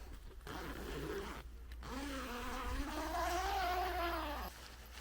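A non-YKK zipper on a pop-up toilet tent is pulled slowly along its track in a few rasping strokes with short pauses, close and fairly quiet.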